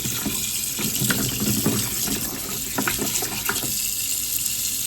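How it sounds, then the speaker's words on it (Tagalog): Tap water runs steadily over raw pork ribs in a sink as they are washed, a close, constant splashing gush with small shifts as the meat is turned under the stream. "First, we're going to wash our pork. Wash it thoroughly"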